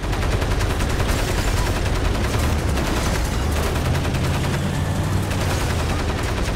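Dense gunfire from Crysis Remastered, a sustained barrage of rapid automatic bursts and overlapping shots that runs loud and unbroken through the whole stretch, with no speech over it.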